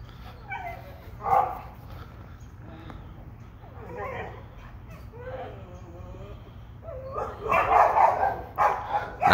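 Several dogs bark, yip and whimper at a cat stuck up a tree, the agitated barking growing louder and more frantic toward the end, with a person talking over a steady low background hum.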